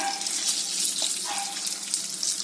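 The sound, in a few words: marinated chicken frying in a pan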